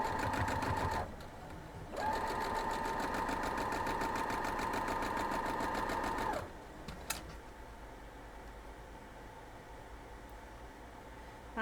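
Sewing machine stitching a seam on a diamond pinwheel quilt block, running in a steady whirring burst, pausing for about a second, then running again for several seconds before stopping, close by.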